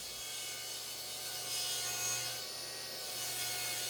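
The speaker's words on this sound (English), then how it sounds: "it's just a plastic straw, and you run it up the corner and it cleans out the glue" A plastic straw is drawn along the inside corner of a plywood wall cabinet to scrape out wet glue, making a soft, steady close rubbing scrape that continues with little change.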